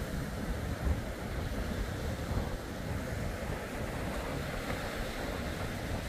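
Ocean surf washes steadily as a large boat, a 9-meter vessel with twin 200 hp V6 four-stroke Suzuki outboards, is pushed off into the waves. Continuous rushing water and wind noise dominate, with no clear distinct splash.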